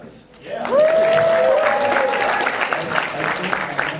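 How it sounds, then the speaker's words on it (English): Convention crowd at a 2011 comic con panel for The Walking Dead bursts into sustained applause, loud and dense throughout, with a brief whoop or cheer rising above the clapping early on. "Applause."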